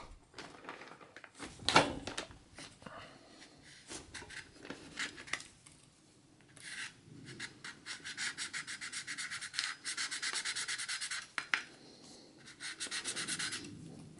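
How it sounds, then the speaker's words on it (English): Credit card scraping dried thermal compound off a CPU from a Dell Dimension 5150 desktop: close, dry rubbing and scratching strokes in irregular bursts, with a sharp knock near the start and quieter pauses between passes. "get either credit card or debit card you have. Like this, you're gonna scrape it off."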